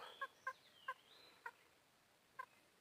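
A tied-up chicken gives five short, quiet clucks at uneven intervals, fairly close, against a hushed background near a waterfall.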